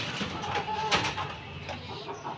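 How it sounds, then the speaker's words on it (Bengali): Backyard chickens kept in a household coop cluck a few times, close and fairly clear, amid rustling and faint background voices. "দেখছেন এই হলো আমাদের মুরগি"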